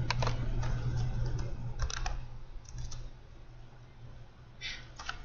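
Typing on a computer keyboard, with quick bursts of soft key clicks in irregular clusters, close and fairly quiet over a steady low electrical hum.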